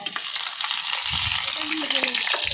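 Chopped garlic frying in hot oil, a steady close sizzle with bright crackle and a few light stirring scrapes, continuous through the whole moment with no voices.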